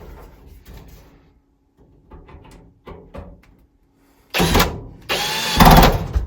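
Power drill driving screws to secure a propane wall heater at a cabin: quiet handling clicks and taps first, then two short, loud, close bursts of the drill whirring.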